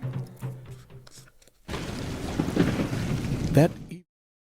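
A thunderstorm with rain in an animated short film, beginning with a few faint tones, then breaking into a loud, rolling rumble over the hiss of rain that cuts off abruptly near four seconds.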